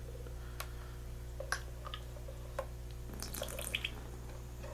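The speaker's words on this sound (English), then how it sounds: "there's gonna be some sort of water that comes out of it" Sparse water drips and small ticks from a Fluval canister filter tube as it is lifted, faint and irregular over a steady low hum, with a brief cluster of splashy drops near the end.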